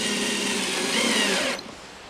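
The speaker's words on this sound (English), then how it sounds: "Now I'm going to put these screws in, and they're just temporary." Power driver sinking a temporary screw into a scarfed, glued stringer of an 18-foot sailboat under construction, a close, loud, steady whine lasting about a second and a half that stops abruptly.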